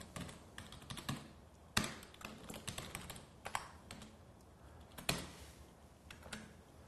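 Quiet, close typing on a computer keyboard as an address is entered into an online invitation form, irregular rapid key taps with a few louder strikes and brief pauses.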